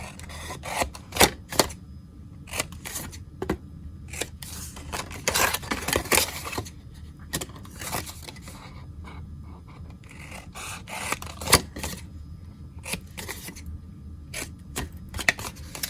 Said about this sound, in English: you're going to cut on that extra score line that you made, and then trim to the left and to the right